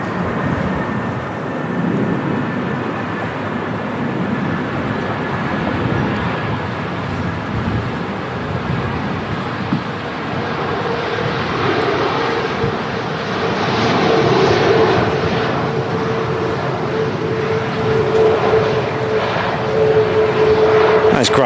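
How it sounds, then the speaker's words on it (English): A Ryanair Boeing 737 Max lands at Manchester Airport and brakes on the runway, with a steady jet engine roar that swells louder toward the end, heard from a distance. "Gradual stop there from the Ryanair Max."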